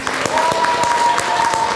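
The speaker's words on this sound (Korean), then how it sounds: "큰 박수 부탁드리고요." An audience at an evening event in a Busan convention buffet hall breaks into steady, full applause, with a faint sustained tone running underneath.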